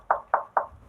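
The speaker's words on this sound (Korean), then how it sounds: "노크 소리가 들린 거야." Three evenly spaced knocks on a door, each sharp and fairly faint, in an otherwise quiet space with no talking.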